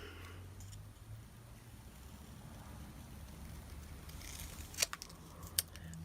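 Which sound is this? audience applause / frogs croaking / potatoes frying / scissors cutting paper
scissors cutting paper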